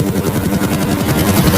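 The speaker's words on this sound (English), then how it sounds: "Zahe, do you hear some helicopters?" A loud, steady, low rhythmic thumping of helicopter rotors flying overhead near the Egyptian pyramids, continuous and close, with no break over the short stretch.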